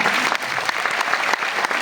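An audience bursts into applause, a dense burst of many hands clapping close by. It stays brief and fairly loud, with a few sharper individual claps standing out.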